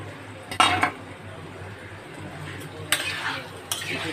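Shrimp being stirred in a cooking pan with spiced masala, a few sharp utensil clinks and scrapes against the pan standing out over a low kitchen background.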